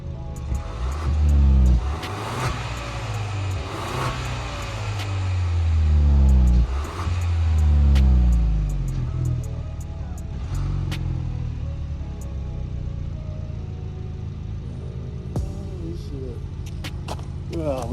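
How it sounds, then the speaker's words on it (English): A stock Chrysler 300 engine revs up and back down several times in quick succession, each rise and fall of pitch clearly audible up close, while a person talks over it. "I'm gonna give y'all some revs real quick"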